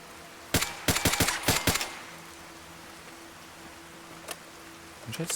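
Rapid bursts of hip-fired gunfire in the Fallout game: a quick cluster of sharp shots early on, then quiet, with a lone later shot and faint clicks near the end.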